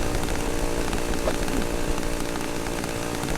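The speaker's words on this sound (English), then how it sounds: "chainsaws are heavy, they resist movement" A chainsaw from the game Cry of Fear runs loud and close, a constant rough buzzing engine drone held throughout with slight shifts in pitch and no voices.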